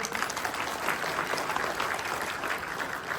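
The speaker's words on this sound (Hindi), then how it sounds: "एक बार ताली हो जाए।" An audience at a business plan meeting breaks into dense, continuous applause, moderately loud and steady for a few seconds with no talking.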